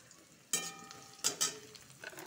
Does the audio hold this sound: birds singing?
no